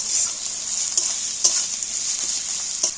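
Tomato frying with potato and onion in a pan for a fish roe curry: a loud, continuous bright sizzle with a few sharper crackles and stirring clicks, close and without talk.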